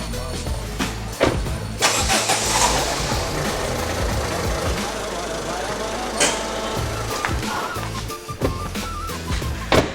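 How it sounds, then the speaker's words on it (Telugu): A car with shock absorber and engine mounting problems starts up and rolls slowly forward. A steady, fairly loud engine rumble runs throughout, with a few sharper knocks along the way. "1 సెకండ్ కార్ కొంచెం ముందుకు పెడతానన్నా."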